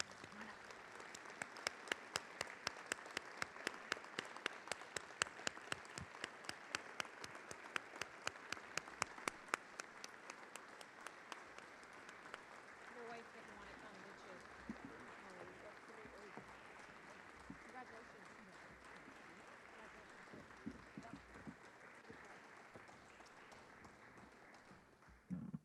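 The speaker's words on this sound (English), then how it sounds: "Let's invite Paul and his family to come up with a round of applause." Audience applause at a South Dakota agriculture award ceremony, the Governor's Agriculture Ambassador Award at the 2019 Governor's Ag Summit: sustained clapping from a large room with sharp individual claps, fading gradually near the end.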